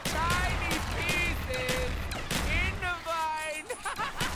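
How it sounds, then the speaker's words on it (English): Distant gunfire rattles in the Call of Duty Black Ops Zombies game, with bursts of shots and bright game effects layered throughout and a dense wash of in-game sound. "I'm just shooting in distance now"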